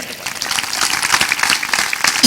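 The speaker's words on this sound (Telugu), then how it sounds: "ఒక్కసారి చప్పట్లు కొట్టండి" An audience at a Telugu sermon on the Song of Solomon bursts into steady, dense applause that grows louder toward the end, with a voice faintly audible underneath.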